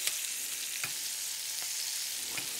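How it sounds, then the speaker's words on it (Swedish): Cabbage rolls frying in a pan for a Swedish home-style dish, a steady close sizzle with a few brief spattering pops, no talk. "Så, må du steka här i lugn och ro."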